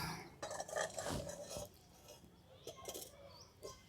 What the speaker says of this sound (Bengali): এরপর আমি উনুনটা ধরিয়ে আর কড়াটা বসিয়ে দিচ্ছি।